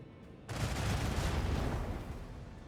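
Gunfire in Warhammer 40000: Rogue Trader during a space battle against the Undying, one sudden dense volley that roars up and sustains for about two seconds before easing off.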